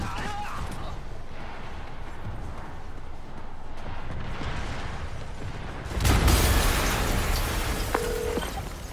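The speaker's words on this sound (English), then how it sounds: "Yuri, an explosion just... I saw it." An explosion in the PS5 game Marvel's Spider-Man Remastered: a sudden loud, broad blast that bursts in after a stretch of low rumble and trails off into a noisy roar.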